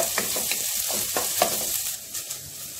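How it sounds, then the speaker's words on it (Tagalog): Garlic, onion and chili sizzle in hot oil in a cooking pot, a steady broadband crackle with a few sharper stirring clinks and pops throughout, close and moderately loud. "Mainit na pong ating kaldero na may mantika. Ayan ang ating bawang, malapit na masunog."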